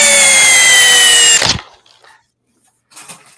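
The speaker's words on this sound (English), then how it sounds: "Let's make sure that it's in drill mode." A Makita 40V cordless drill runs in drill mode, a loud steady whine for about a second and a half before cutting off abruptly, followed by near silence and faint handling noises.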